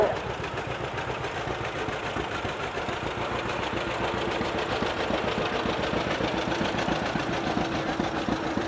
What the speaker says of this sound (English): This is a 1945 John Deere A